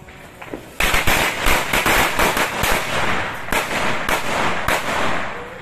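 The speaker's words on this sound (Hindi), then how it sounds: "देखिए हाथ में ही पटाखा बजा दिया इन्होंने" A firecracker set off in the hand, then a rapid, loud crackling volley of pops and bangs nearby that keeps going to the end.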